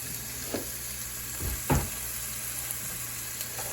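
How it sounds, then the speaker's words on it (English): Onions sauté in a pan for Indian butter chicken, sizzling steadily close up, with a few sharper bursts and scrapes as they are stirred. "That'll get the onions sweating a little bit."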